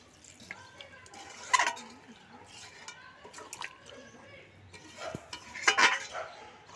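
Chicken curry with water and poppy-seed paste being stirred in a pot, with two sharp clanks of a spoon against metal amid soft wet sloshing and quieter scraping.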